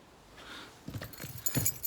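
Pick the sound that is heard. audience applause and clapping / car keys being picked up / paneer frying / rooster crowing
car keys being picked up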